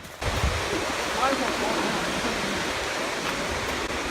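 Piney Falls, a waterfall in Grandview, Tennessee, gives a steady broadband rush of falling water, close and constant, with a brief soft bump at the start and no talking.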